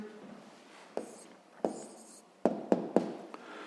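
A pen scratches and taps on paper while a math answer for a sixth-grade exercise is written down, with a few sharp strokes standing out and faint hushed background sound between them.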